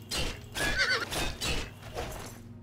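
A horse in the video game The Elder Scrolls IV: Oblivion whinnies repeatedly in several loud, shrill bursts, close by, with faint hoof clatter underneath and no talking.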